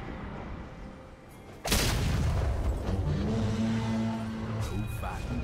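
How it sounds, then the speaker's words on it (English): A League of Legends turret is destroyed mid-match in a Twisted Fate versus Annie game, giving a sudden loud boom and a sustained rumbling crash under game music and an announcer's voice. "Blue team's turret has been destroyed."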